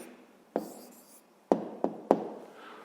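A pen writes an answer to a sixth-grade maths exercise in a few short strokes and taps, close and fairly quiet, with no talk.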